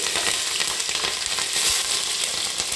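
Chopped onions and green chillies fry in hot oil, giving a steady, close, loud sizzle with faint crackles and a little stirring, and no voice over it.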